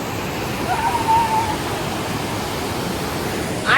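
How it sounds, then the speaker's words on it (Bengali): Clear mountain river near Manali rushing steadily, a broad continuous hiss of flowing water close by with no pauses and no voices. "জলের স্রোতটা খুব সুন্দর"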